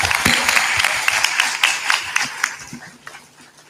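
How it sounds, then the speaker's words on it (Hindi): A gathered audience claps at a leader's prompt, producing uneven, moderately close hand claps that thin out and grow more scattered toward the end, with faint voices underneath. "ताली बजा दो।"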